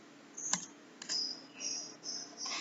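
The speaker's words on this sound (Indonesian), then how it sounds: "ke web browser, ketikkan" Keys clatter on a computer keyboard as an address is typed into a web browser: one sharp click, then short bursts of fast typing, close and fairly soft.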